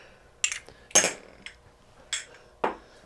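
Dry spices, sugar, paprika, chili powder, salt and pepper, are stirred in a bowl with a utensil. Several separate clinks and scrapes ring out close and clear against near silence.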